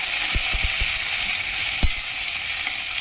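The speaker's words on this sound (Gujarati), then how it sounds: "આમાં હવે આ ગુંદા આપણે વઘારી દઈશું." Garlic chutney and gunda berries hit hot tempering oil for a Gujarati pickle, giving a steady close sizzle and hiss broken by a handful of sharp pops and crackles.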